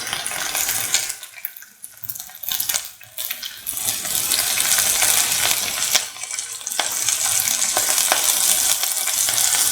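Shallots fry in a pan with chillies for lemon potato rice, giving a loud, steady broadband sizzle with brief dips and a few light clinks of stirring.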